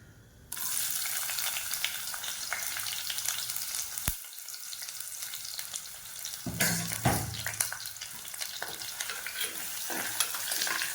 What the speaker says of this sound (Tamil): இப்போ இந்த வெங்காயம் வந்து இந்த லோ ஃப்ளேம் வச்சு வதங்கிட்டு இருக்கட்டும்